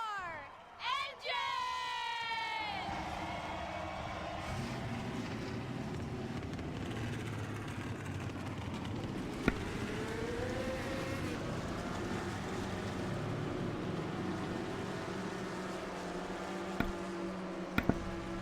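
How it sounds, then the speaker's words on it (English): In a racing video game, the engines of 40 stock cars fire up for a dirt-track race at Knoxville: a rising whine, then a dense, continuous roar with revving swells and occasional sharp clicks. "Drivers, start your engine!"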